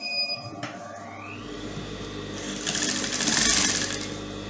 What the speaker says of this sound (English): I'm going to stitch it down with quarter of an inch or half of an inch.